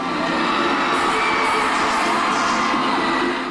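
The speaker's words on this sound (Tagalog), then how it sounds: "drawing loud cheers from the crowd" A large crowd at a show roars and cheers continuously as a performer is carried to the stage by male models, a dense, loud wash of shouts and whoops throughout.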